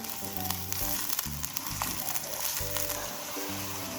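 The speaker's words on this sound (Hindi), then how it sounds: "तेल गरम हो गया है, इसमें हम प्याज डालेंगे। इसको हल्का सा फ्राई करेंगे हम।" Onions fry in hot oil with a steady, close crackling sizzle that carries on throughout, under background music.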